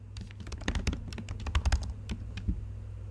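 Quick, uneven typing on a computer keyboard, a close run of light clicking keystrokes over a low steady hum.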